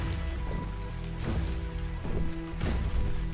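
Rain falls in ARK: Survival Evolved as a steady wash of patter and splashes, with faint game music and occasional soft thuds underneath and no talking.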